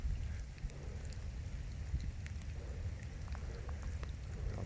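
Light rain falls outdoors in the countryside during a fishing outing, a faint, steady patter with scattered drops close by and a low background rumble.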